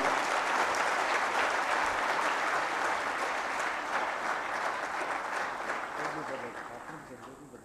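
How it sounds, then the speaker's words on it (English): A summit audience at a management conference in Lahore breaks into full, loud applause for a speaker, a thick continuous clapping crowd that holds strong and then gradually fades toward the close. "Give him a thundering round of applause"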